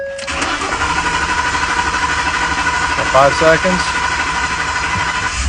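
A 2011-2016 Ford F-150 engine cranks in flood mode to prime fresh oil after an oil change, with a loud, continuous churning starter drone held for several seconds while a person speaks briefly partway through.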